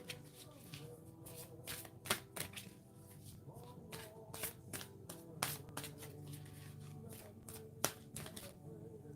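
A deck of angel cards being shuffled by hand, with repeated riffling bursts and sharp card snaps spread through the span over a steady low background hum.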